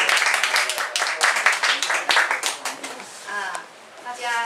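An indoor audience at an afternoon information session claps in a dense, steady burst that gradually thins out, with voices audible around the applause.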